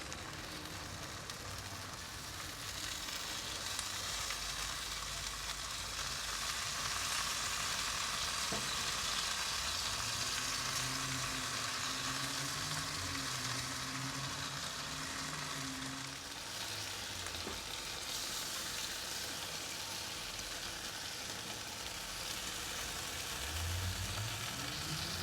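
Glazed chicken leg quarters sear over hot coals in a Weber kettle grill, producing a constant soft hiss and crackle with faint low rumbles underneath and no talking.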